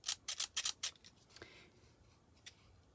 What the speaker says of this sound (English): I use this scissors